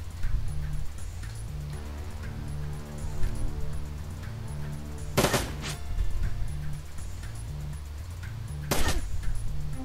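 Two sharp, heavy shotgun blasts ring out in the Shadowrun video game, well spaced apart over a steady low musical drone.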